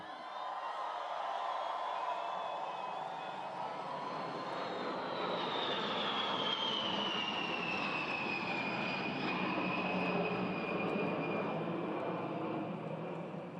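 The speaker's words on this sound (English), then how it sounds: "that's a B-52. They can fly from here to the other side of the world and back" A B-52 bomber roars overhead at a national 250th anniversary Independence Day celebration, a loud continuous jet drone with a rising-then-falling whine as it passes, sustained for the whole span with faint crowd noise beneath.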